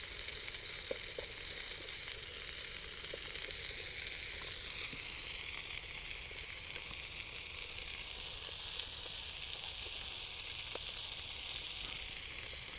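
Burgers and onions sizzle steadily in a pan on a camping stove outdoors, a continuous close frying hiss with occasional pops and crackles throughout, with no talking.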